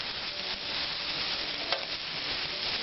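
Hot Italian sausages and peppers sizzling and being stirred in a hot pan, a steady close frying crackle with a brief utensil scrape, no talking.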